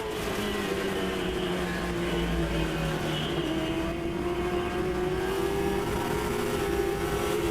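Late model race cars at Langley Speedway roar steadily through a 65-lap event, engines droning loud and continuous with a slowly shifting pitch as the pack circulates.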